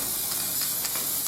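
Steady hiss of an aerosol can spraying flat black matte paint onto metal fender riser brackets, a continuous close spray with slight pulses and no speech.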